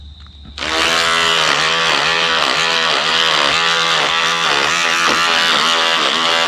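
Philips Multigroom electric trimmer cutting a beard at the 1 mm setting: a loud, steady buzzing motor starts after a brief quiet moment and runs continuously, with faint rhythmic dips as it passes over stubble.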